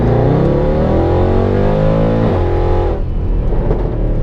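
A Mercedes C63 AMG pulls away from a standstill in first gear, its engine revving loud and close with a rising pitch before shifting up and settling into a lower drone.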